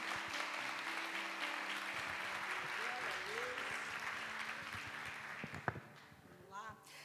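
Church congregation at a Sunday morning service clapping, a dense sustained wash of applause that tapers off toward the end, with some voices mixed in.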